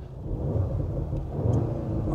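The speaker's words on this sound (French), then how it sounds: "Là, on entend que ça pétarade" Audi A3 S in dynamic drive mode with the exhaust valves opened, a steady loud low engine rumble with revving and a few faint crackling pops from the exhaust.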